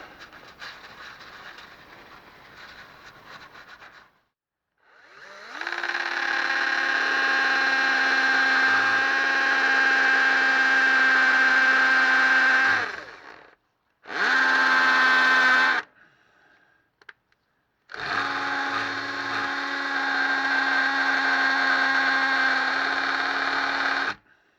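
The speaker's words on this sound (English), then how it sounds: "So I'm hoping if I can get a small drill, well, get a small drill in, and if I can catch it right" A small electric drill bores into a Classic Mini gear selector rod oil seal, whining steadily in three long bursts with short pauses between, close and loud with no talk.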